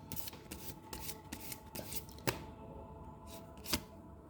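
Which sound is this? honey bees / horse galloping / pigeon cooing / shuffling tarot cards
shuffling tarot cards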